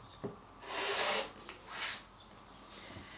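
Scissors or a rotary cutter trim the edges of a quilt block made from 8-inch squares, heard as two soft rasping strokes close by over a quiet room.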